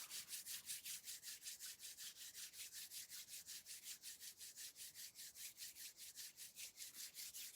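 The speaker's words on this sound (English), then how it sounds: "We're just going to rub our hands together." Palms rub briskly back and forth in a steady, even rhythm, soft swishing strokes repeating quietly and close with no voices.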